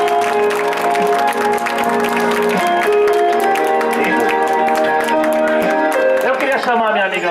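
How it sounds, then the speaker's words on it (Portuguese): Guests clap together at a birthday party in Cangaíba, São Paulo, a steady dense patter under loud music, with voices and singing mixed in throughout. "Pode bater palmas aí,"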